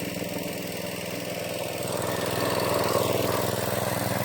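A pump engine drones steadily throughout, a continuous mechanical rumble with a constant low hum that grows slightly louder toward the end.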